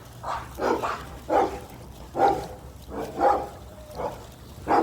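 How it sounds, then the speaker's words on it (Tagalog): Several dogs bark in bursts, about eight sharp barks spread unevenly over a few seconds, moderately near, with a low hum underneath. "Maraming malalaking aso dito."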